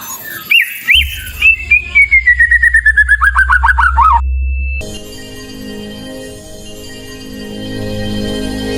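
An oriental magpie-robin (murai) sings loud, close, bright whistled phrases, then a long descending run of rapid trilled notes; after a short cut, fainter chirps continue over a low steady hum.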